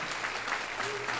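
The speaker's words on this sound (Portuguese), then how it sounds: "Vamos aplaudir o nosso Senhor Jesus Cristo." Audience at a regional church gathering in Araçatuba clapping, a dense steady wash of applause from a crowded room, with a faint voice or tone rising underneath.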